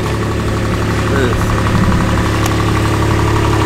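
A UTV engine idles and rumbles steadily, loud and close with a constant vibrating drone; a voice is faintly present beneath it.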